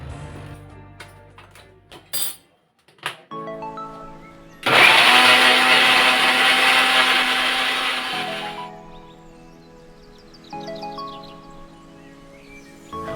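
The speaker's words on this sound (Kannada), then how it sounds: "ಬಟ್ ನನಗೆ ಸ್ಮೂತ್ ಪೌಡರ್ ಬೇಕಾಗುತ್ತೆ ಅಂತೇಳಿ ನಾನು ಈ ಮಿಕ್ಸಿ ಜಾರ್ನ ಯೂಸ್ ಮಾಡ್ಕೊಂಡಿದ್ದೀನಿ." A mixer grinder jar grinds bath powder in one loud, harsh whirring burst of about four seconds, preceded by clunks of handling the jar and followed by quieter background sounds.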